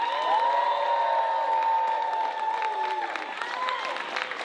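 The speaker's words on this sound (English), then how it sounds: "So we can just please give them a huge round of applause on the count of 3." A large audience at a creator camp breaks into loud, sustained applause mixed with cheering and whoops, a dense crowd roar with a few high voices rising above it.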